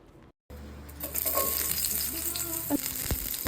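Onion and garlic drop into a little hot oil and burst into a loud, close, crackling sizzle that keeps going, with stirring scrapes from the pan.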